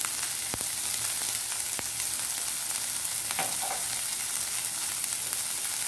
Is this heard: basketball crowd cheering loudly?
no